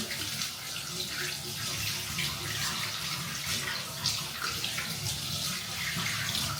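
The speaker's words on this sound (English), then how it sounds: "Give your hands a wash." Steady rush of water running from a tap while hands are washed, continuous and fairly close throughout, with no voices over it.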